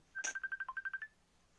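A telephone gives a short burst of rapid electronic tones, about a dozen evenly spaced beeps in quick succession, fairly faint and clear with no talking over it, as incoming calls keep arriving.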